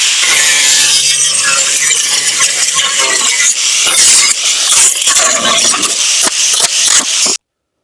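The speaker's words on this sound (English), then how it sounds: "I had to cut this little slit right here because of this strut." A loud, close, continuous rasping cut slices a slit into a fender on a Miata-based drift kart, harsh and gritty with uneven scraping pulses, then stops abruptly.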